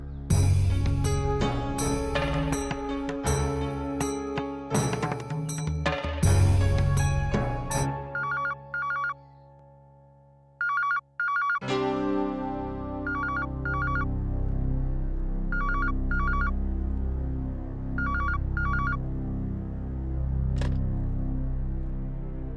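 A mobile phone ringtone plays as a repeating electronic melody, loud and close, then cuts to quieter repeated beeping chimes over a low background hum.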